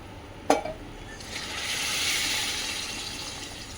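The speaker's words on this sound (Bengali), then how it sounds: "আর এই যে হয়ে গেছে মশলাটা কষা আমি এখন দিয়ে দেবো গরম জল" Hot water is poured into fried spice paste in a cooking pan: a sharp clink, then a broad, rising hiss and sizzle that swells for a few seconds before easing slightly, close and steady, with no talking.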